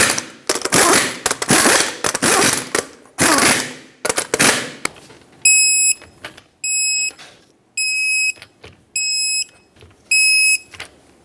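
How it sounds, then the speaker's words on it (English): Ratcheting clicks from tightening lug nuts on a 2008-2012 Honda Accord wheel, several close bursts of rapid clatter followed by a series of sharp electronic beeps repeating at a steady pace. "we're going to torque them to 79 foot-pounds"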